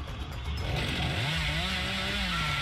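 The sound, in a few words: chainsaw revving in the video game Dead by Daylight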